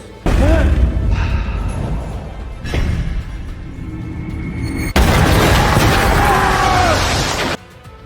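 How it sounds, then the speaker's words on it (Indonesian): A grenade blast in the Monster Hunter (2020) film, part of a loud cinematic battle against the Diablos monster, with heavy booming bursts and roaring rumble. "anggota ini sempat melemparkan sebuah granat ke arah Diablos"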